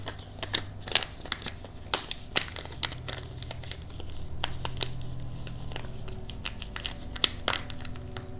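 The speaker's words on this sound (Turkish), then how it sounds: "Akabinde tılsım yazılı kağıtları katlayın" Sheets of paper written with talismans are folded by hand close up, giving a run of crisp crinkles, sharp creases and papery rustles at an irregular pace, with no talking.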